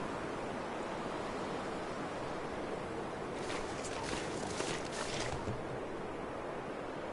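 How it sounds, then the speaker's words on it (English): Howling wind in The Long Dark survival game makes a constant, loud broadband rush with a slight gust swelling midway, with no voices over it. "it's still windy"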